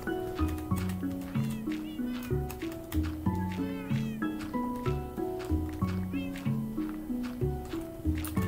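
Cats meowing repeatedly in a rhythmic, musical pattern over a steady beat, loud and close, inside a video game's living-room scene.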